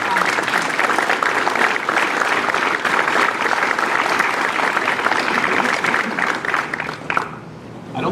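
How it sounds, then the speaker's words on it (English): Sustained crowd applause at a July 4 ceremony, a dense steady wash of clapping from a large outdoor audience that tapers off near the end. "Let's hear a round of applause for"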